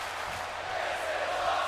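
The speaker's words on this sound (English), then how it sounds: "Hear the crowd chant, "This is awesome."" Arena crowd in the WWE 2K25 wrestling game, a broad steady roar of many voices chanting and cheering at a distance, sustained with no break.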